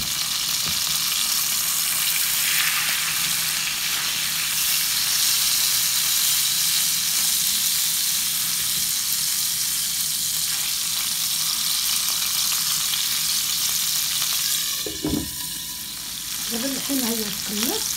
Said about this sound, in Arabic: دابا غادي تقلى لي الحيمه وندير البصله، تقلى معاها بصله محكوكه تقلى معاها